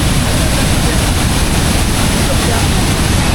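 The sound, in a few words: Meenmutty waterfall flowing down the mountain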